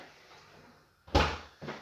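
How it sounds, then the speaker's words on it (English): A freezer door swings shut at home with a close, solid thud, followed a moment later by a second, softer knock, with near silence before it. "Let me just put these back in the freezer"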